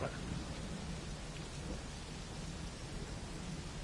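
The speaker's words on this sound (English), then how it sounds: "now it's raining. Listen to the rain." Steady rain in the Metal Gear Solid video game, a dense continuous hiss with low rumbling, filling the whole stretch at even loudness with no other sounds on top.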